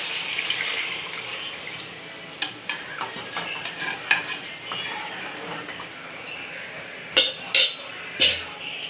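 Tamarind and chili powder mixture poured into a hot pan for fish curry, giving a steady sizzling, bubbling wash with scattered stirring clatters and a few sharp utensil knocks near the end, no talk.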